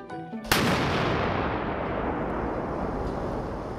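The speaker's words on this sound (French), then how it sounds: "lorsque l'explosion se produit, vous voyez, on est dans la boule de feu" A loud, sudden blast erupts half a second in from a test of blast-resistant structural columns, followed by a sustained roaring rumble that stays heavy for several seconds without fading much.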